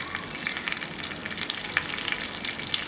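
Cumin seeds, curry leaves and asafoetida sizzling in hot desi ghee, a dense steady crackle and hiss with small pops, close and continuous with no talking.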